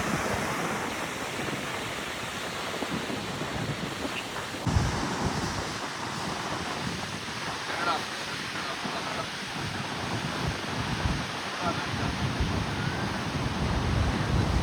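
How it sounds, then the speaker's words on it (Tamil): Heavy water of Niagara Falls on the US–Canada border, a steady broadband roar of flowing and crashing water with wind buffeting the microphone, continuous and close throughout. "அமெரிக்காவிலேருந்து தண்ணி வருது, கனடாவில் போய் கலக்கு தண்ணி."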